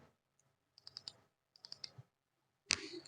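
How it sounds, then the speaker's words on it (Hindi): Computer mouse clicks come in two quick clusters of sharp, close taps, followed by a louder, brighter click-like burst near the end, with no voices. "चार्जिंग डाटा में क्लिक करेंगे"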